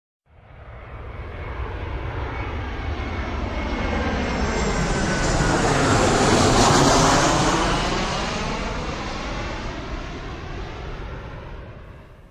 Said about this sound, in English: Airplane. Airplanes come in different sizes.